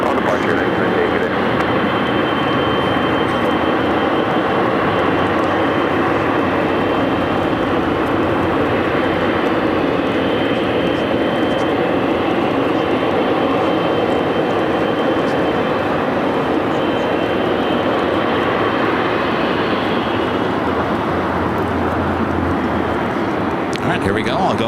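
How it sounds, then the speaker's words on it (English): A Boeing 777 freighter passes at Los Angeles International with a loud, sustained jet roar that fills the whole stretch and eases slightly near the end, while voices talk underneath. "777 freighter, not a queen, but the day is early"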